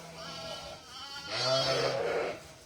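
A sheep on a lambing farm gives a wavering bleat, close and fairly loud, rising in the second half, with faint human voices in the background.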